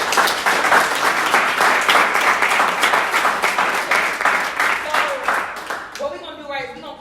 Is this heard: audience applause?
yes